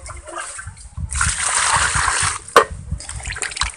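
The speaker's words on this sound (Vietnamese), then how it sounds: "Chúng ta cho nước vào rửa sạch nha các bạn." Water is poured over cut bananas to wash them, giving a close splashing rush of liquid with a brief knock partway through and a lighter trickle after.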